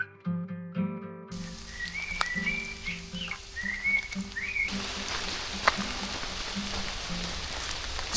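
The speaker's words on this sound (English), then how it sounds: "It's raining a lot." Rain falling in a Danish forest, a soft continuous patter on leaves and ground that grows denser and brighter partway through, with low croaking frog-like calls and a few bird chirps repeating in the background.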